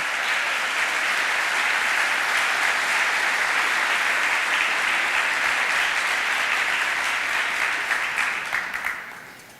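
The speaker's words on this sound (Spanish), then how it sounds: "por favor, un fuerte aplauso" Strong applause from a large audience at a Fundación Libertad event with Argentina's economy minister: sustained, even clapping that fills the room for several seconds, then tapers and fades out at the end.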